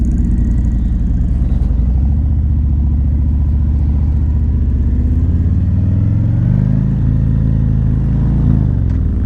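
A beginner's motorcycle engine labours at low revs while climbing a hill, a close, heavy thrumming that drops in pitch then rises again as the throttle and clutch are worked.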